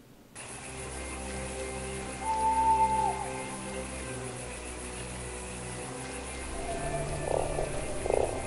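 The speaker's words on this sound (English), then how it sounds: "A toad on board." A toad croaks in the game Fran Bow, a low steady rumble over a sustained ambient hum, with a brief brighter tone near the middle and a couple of soft calls toward the end.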